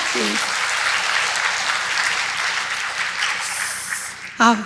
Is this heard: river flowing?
no